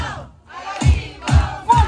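A children's birthday party crowd chanting a name in three loud, rhythmic shouts, each burst rising sharply then fading, voices together and close.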